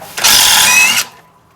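Impact gun loosening a brake caliper bolt on a 2016 BMW 320i during a front brake pad job, one loud close burst of buzzing rattle lasting under a second, then a faint whir as it spins down.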